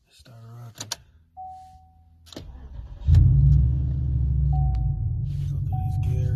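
Chevrolet Impala SS V8 engine cranks and catches at about three seconds, then settles into a loud, steady idle close by, with people talking before and during it.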